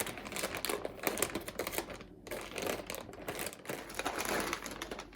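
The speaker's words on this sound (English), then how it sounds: "We are now going to be opening bag B." Plastic parts bag B from a Losi 5ive B RC kit being torn open and handled, a quick run of close crinkling and rustling with sharp clicks and taps, no talk.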